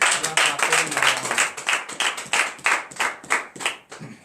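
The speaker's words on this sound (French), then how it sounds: "Acclamons encore une fois." A church congregation at a Monday morning prayer service in Comè, Benin, claps and applauds together, a brisk, dense run of handclaps with rhythmic surges, fairly close and loud, with a few voices mixed underneath.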